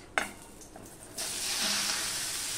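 Onions tipped into hot oil with tempered whole spices and green chillies for a Bengali fish dish, heard as a sharp splash followed by a loud, steady close sizzle.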